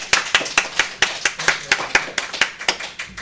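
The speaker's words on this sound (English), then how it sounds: "let's give a round of applause to the speakers" A few people clap for panel speakers at an open-source leadership talk, about fourteen distinct, evenly spaced claps close by, sounding sparse rather than like a full crowd.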